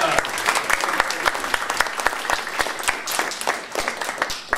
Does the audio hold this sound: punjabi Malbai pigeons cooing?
no